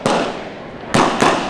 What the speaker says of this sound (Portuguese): Ó os tiros.